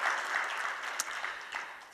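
An audience at a 2015 retail industry forum claps steadily to welcome a presenter, a brief, soft, even patter of many hands heard from a distance.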